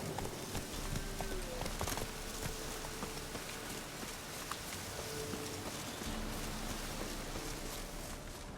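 Horse hooves clip-clop at a steady walking rhythm in The Witcher 3, a continuous soft patter under a constant ambient outdoor bed of insects and wind, moderately close.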